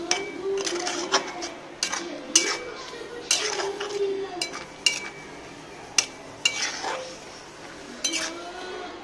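A metal spoon stirs milk into desi corn chevdo in a pot, giving irregular clinks and scrapes against the pot at close range with no talking.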